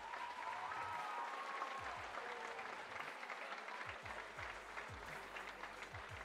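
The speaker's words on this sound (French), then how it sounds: "Je pense que vous pouvez applaudir vos parents, les élèves." Students applaud their parents at an end-of-year school gala, a steady wash of crowd clapping that holds evenly for several seconds, with low thumps and rumbles beneath it.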